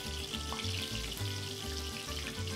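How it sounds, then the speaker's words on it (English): Fish frying in hot oil inside an all-purpose pot outdoors, giving a steady close sizzle and crackle with bursts of spattering, with no talking. "I'm frying it in my Chef RV all-purpose pot."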